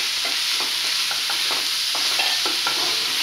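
Grated cabbage for veg momos frying in a hot pan, a dense continuous sizzle with quick stirring scrapes, close and loud.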